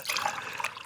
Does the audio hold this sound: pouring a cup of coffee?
yes